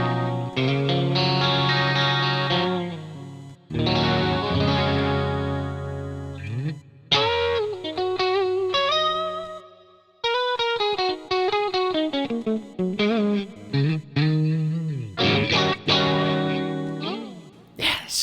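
A Fender Stratocaster electric guitar is played close and clear with a bright, plinky tone and chorus-like shimmer, moving through strummed chords, single-note runs and bends, with pauses between phrases and no talking.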